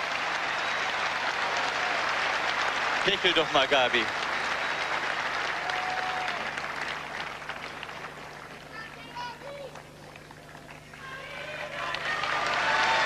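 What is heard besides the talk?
crowd cheering and applauding silver medalist Gabriela Sabatini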